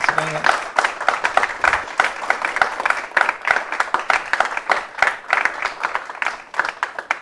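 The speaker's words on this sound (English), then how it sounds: "give a round of applause to Josh and to Hannah" Sustained audience applause after a talk at an innovation masterclass, many hands clapping steadily and fairly close for several seconds, with a brief voice at the very start.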